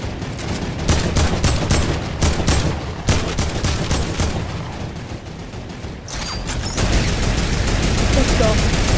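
Heavy, continuous bursts of mounted turret gunfire in a squad-based shooter game, loud and near, with rapid overlapping shots and booms sustained throughout under occasional voices.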